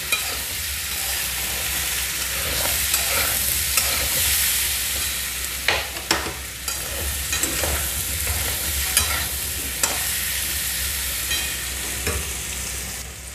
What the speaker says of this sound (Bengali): এটা একটু তেলের ভিতর ভালো করে মিশিয়ে নিচ্ছি। আমি হালকা করে একটু ভেজে নেব।